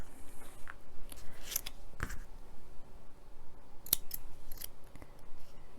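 Scissors snip yarn while fastening off a crochet piece, a few sharp close clicks spread over several seconds against quiet handling noise.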